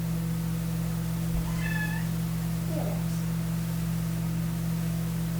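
A pet cat named Lucifer gives two short, clear meows, close to the mic, over a constant low electrical hum in an indoor room.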